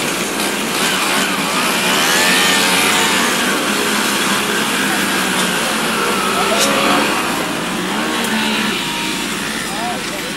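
A car engine pulls away and accelerates, its steady broadband roar rising and swelling across the whole stretch with a hint of revving, fairly close and loud, with no talk over it.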